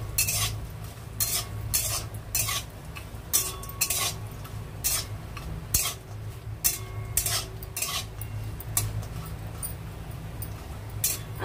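Cashews and almonds fry in ghee in a pan while a utensil stirs them, giving repeated close metallic scrapes and clinks over a steady sizzle and hiss, with no talk.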